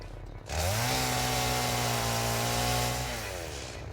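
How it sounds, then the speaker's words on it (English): A chainsaw in the video game Satisfactory revs up from quiet into a loud, steady buzzing whine, holds it for a few seconds, then begins to wind down. "I need chainsaw"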